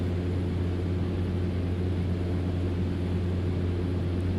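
A steady, droning propeller engine of a Cessna 208 Caravan in the X-Plane 12 flight simulator hums continuously and evenly from the cabin, with no talking.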